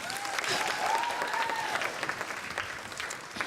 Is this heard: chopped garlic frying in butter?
no